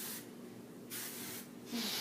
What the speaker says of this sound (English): I'm going to use a little bit of spray.